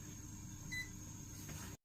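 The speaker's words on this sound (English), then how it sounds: "Now I'm gonna melt a butter in the microwave." A microwave oven melting butter hums steadily with a faint electrical whine and a brief high beep partway through, then the sound cuts off abruptly.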